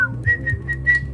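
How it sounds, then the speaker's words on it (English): Someone whistles a short melodic phrase of four or five clear, sustained notes, close and alone, with no talking over it. "You're good at whistling"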